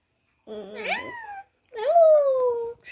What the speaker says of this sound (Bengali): মিয়াও মিয়াও কেন করতেছ?